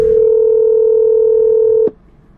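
A single steady telephone tone holds for nearly two seconds, then cuts off abruptly, leaving quiet background.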